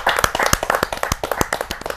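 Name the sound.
clapping to welcome a poet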